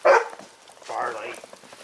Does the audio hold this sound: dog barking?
yes